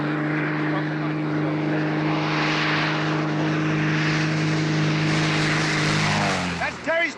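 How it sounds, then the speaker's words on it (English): A propeller plane flies overhead, its steady droning engine loud and continuous before fading slightly near the end, with a few scattered voices at the close. "That's Terry's plane."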